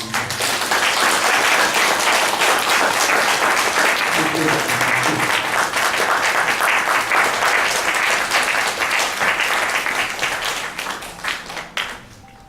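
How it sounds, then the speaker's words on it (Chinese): A church congregation claps together at a Sunday service for the installation of elders and deacons, a loud, dense, sustained round of applause that fades out near the end. "我们在这里拍掌来祝福我们。"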